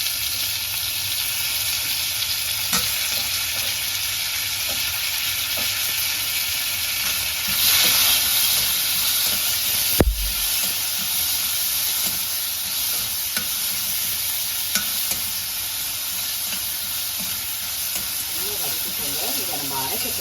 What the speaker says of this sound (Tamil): எல்லாத்தையும் நல்லா வதக்கிக்கோங்க.